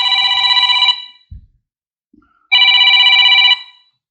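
A telephone rings twice when a call is placed back, each electronic ring loud and about a second long, with a clear pause between them and no talking.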